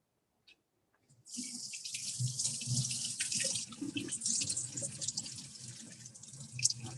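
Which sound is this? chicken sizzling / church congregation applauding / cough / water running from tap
water running from tap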